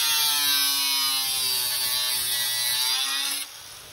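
An angle grinder cuts support brackets on a 1972 Corvette C3 nose, a loud, close, high-pitched whine with a slowly shifting pitch that drops away sharply near the end.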